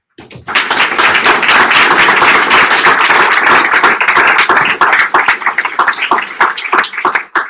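A crowd at a graduation ceremony gives a loud, dense round of clapping after a speech. The applause swells quickly, holds steady and thins into scattered claps near the end.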